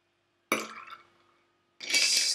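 Orange juice poured into a cocktail glass while a Hummingbird cocktail is mixed with dark and white rum: a short splashing pour, a pause, then a second brighter, louder burst of liquid, close up with no talking.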